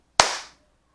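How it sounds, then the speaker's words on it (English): A single sharp hand clap rings out close and loud, then decays quickly into silence. "clap."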